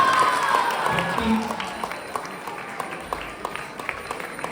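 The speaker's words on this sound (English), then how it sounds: "it is all applause for Madhav module" An audience at a children's festival event applauds, with scattered claps close by under a steady crowd murmur and a voice speaking at the start.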